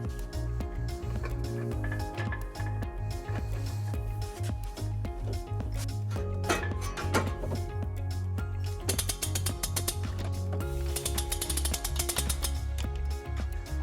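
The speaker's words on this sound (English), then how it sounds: "We will be using our U-Haul exclusive hitch jack" A U-Haul hitch jack is cranked to lift a heavy trailer hitch into place under a 2016 Toyota Sienna. Repeated ratcheting clicks and grinding mechanical rubs come in uneven bursts, fairly quiet and close.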